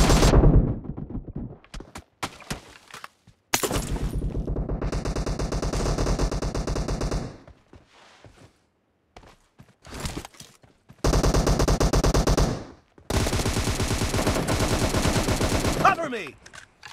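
Gunfire in the video game PUBG during arena training: several long bursts of rapid automatic fire, loud and close, separated by short gaps and single shots, with brief voice lines between bursts.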